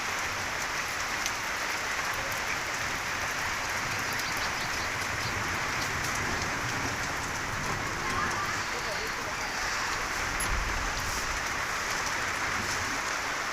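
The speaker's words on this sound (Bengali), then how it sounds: "এই বৃষ্টিটা অনেক যা উপকার হইব আর কি" Steady rain pours down on a surface, a dense continuous hiss with no pauses throughout.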